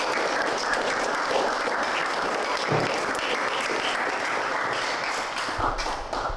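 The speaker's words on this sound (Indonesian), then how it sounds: "baik, masih beri tepuk tangan ini." High school classroom applause, a steady patter of many hands clapping close by, sustained for several seconds without talk.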